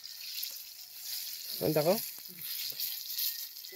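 Eggplant frying in a pan at an outdoor jungle picnic gives a steady bright sizzle throughout, with a short spoken word partway through.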